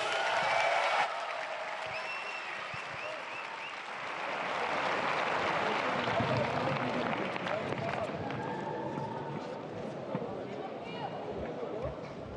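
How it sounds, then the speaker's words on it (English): Loud, sustained applause from a large crowd at a tennis event in Dubai's Coca-Cola Arena, swelling midway and continuing steadily, with voices mixed into the clapping. "Monfils, give him a big round of applause once again, ladies and gentlemen"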